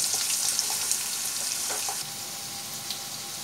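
Potatoes frying in a pan, a steady close crackling sizzle with a few brief stirring clicks, no voices.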